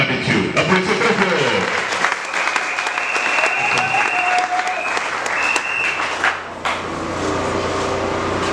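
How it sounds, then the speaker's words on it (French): A church congregation claps loudly and continuously, dense and close, while voices and shouts rise over the applause before it thins out toward the end. "nous allons maintenant applaudir très fort comme les enfants de Dieu. Applaudissez très fort."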